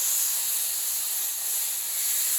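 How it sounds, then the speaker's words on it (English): A sirloin roast searing in a cast iron skillet makes a steady, close hiss of sizzling fat, unbroken and even for a couple of seconds with no voices. "So we're just trying to get it seared a little bit."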